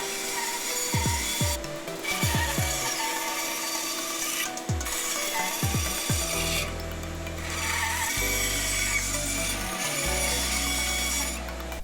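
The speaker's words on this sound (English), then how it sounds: "I'm going to go ahead and cut that out on the bandsaw" A bandsaw cuts a wheel groove out of wood for a scooter stand. Close, rasping cutting strokes are followed by a steadier machine hum with several short breaks, and there is no talk.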